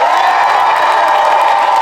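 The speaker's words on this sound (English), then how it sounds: "Can you give my ladies a round of applause?" Audience cheering and applause at a conference, a loud, dense burst of crowd whoops and clapping, close and continuous.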